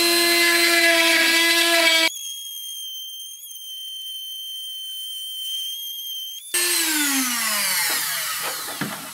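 Power drill boring a channel for lamp wires in a lamp build, whining loudly with strong harmonic tones, a quieter high-pitched stretch in the middle, then a shifting descending whine as the bit works.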